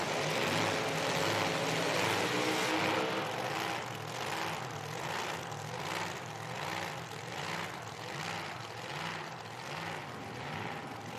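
A supercharged 1955 Chevrolet Bel Air drag car idles with a heavy, rhythmic blower lope at an IHRA drag race, the engine pulsing evenly at a moderate distance amid open-air noise.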